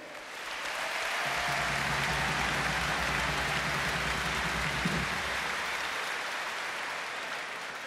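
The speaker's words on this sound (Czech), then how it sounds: "prosím o potlesk také pro dalšího golmana světových šampionů" A large arena crowd at an ice hockey exhibition game applauds a world-champion goalkeeper being introduced, a dense, steady roar of clapping that holds for the whole stretch, with a low hum beneath it.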